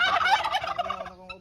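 Domestic turkeys on a small farm in Bohol, Philippines, gobble in a loud, rapid, warbling burst at close range, the calls fading out after about a second.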